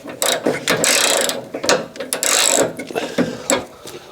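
A hand ratchet clicks in rapid bursts, close and loud, with metallic scraping and brief pauses between strokes as a tight bolt on a crash-damaged Fiat 500 is worked loose.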